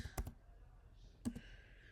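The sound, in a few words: computer keyboard typing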